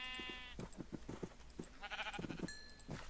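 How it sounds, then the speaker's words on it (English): Sheep in the Minecraft video game bleat several times in quick, short calls, close and fairly quiet, with other soft game sounds and a brief tone in between. "Oh, sheepies. And you notice I got a pink sheep"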